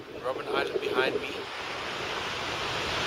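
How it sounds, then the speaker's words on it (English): Ocean waves and wind on the Atlantic shore at a Cape Town beach near Table View, a steady broad wash of surf with gusty wind buffeting the microphone, louder at first and then settling into a constant roar. "I'm at the beach. You can see the beach in the distance there."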